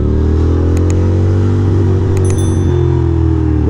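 A Ducati motorcycle with a leaking right fork cruises along at steady speed, its engine droning loud and continuous throughout, with a few light clinks and rattles over the top.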